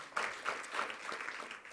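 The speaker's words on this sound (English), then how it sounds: "we'll still give him a round of applause" Faint, distant applause in a school governing board meeting room, a modest group clapping unevenly at low level.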